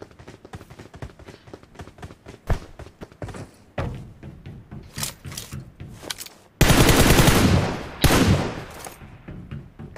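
Gunfire in a mobile shooting game: rapid single shots and footstep-like taps early on, then long loud bursts of automatic fire toward the end, close and dominant.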